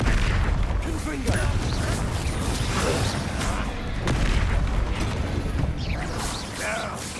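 Spell explosions from the Confringo curse in Hogwarts Legacy: sharp fiery blasts and crackling impacts repeating through a busy battle, with mechanical clanks and a voice speaking amid the combat noise.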